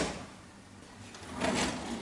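A kitchen drawer in a set of drawers beneath a large gas stove slides open or shut in a shared apartment kitchen, a soft scraping glide that swells midway, close and fairly quiet, with no speech.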